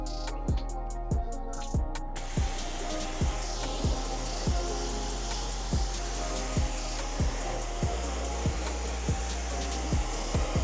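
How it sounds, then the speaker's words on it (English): An IK Foam Pro 2 sprayer hisses steadily as it coats a car wheel in foam, a continuous spray broken by a regular series of sharp, close clicks or taps throughout, with a brief choppy burst at the start. "you've seen the IK sprayer took about 10 seconds to do the whole wheel"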